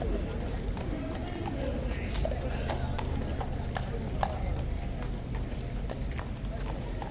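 Hooves of a Life Guard cavalry horse clip-clop steadily on hard ground as an officer leads it back in, a continuous run of hoofbeats under crowd chatter and background voices.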